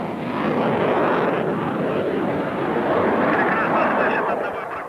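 A MiG-29 fighter jet's engine gives a loud, continuous broadband roar that holds steady throughout, with no pauses.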